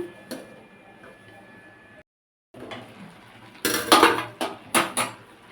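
A lid goes onto a cooking pot of pumpkin greens, eggplant and potato with ground pea-lentil paste: after a quiet stretch, a quick run of close metallic clinks and clatters rings out, with no one speaking.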